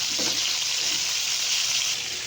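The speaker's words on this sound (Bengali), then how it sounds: "দিয়ে দিলাম পরিমাণ মতো জল।" Water poured into a pan of frying fish for the gravy sets off a loud, steady, close hiss of sizzling that runs evenly throughout, with no voices.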